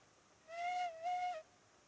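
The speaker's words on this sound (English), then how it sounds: "Whistle." A steam locomotive whistle in the video game Railroads Online sounds as one steady, clear tone lasting about a second, split into two blasts by a brief dip, loud over a quiet background.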